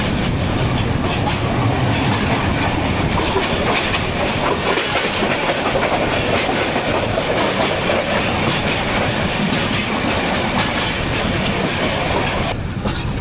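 The Tista Express rolls along the rails with a steady, loud rumble and rhythmic clickety-clack of wheels over joints, heard from inside the train, constant throughout with no talking.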